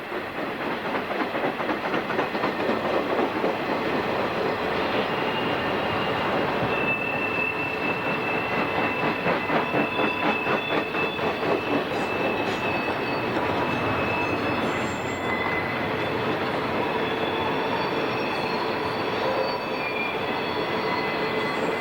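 A Southern Pacific train with SD-40 helper locomotives runs downgrade eastbound on the Coast Line, the helpers from San Luis Obispo adding braking. A loud, steady rumble of rolling wheels carries high squealing tones throughout.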